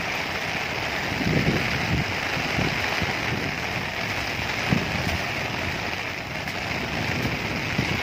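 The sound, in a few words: heavy rain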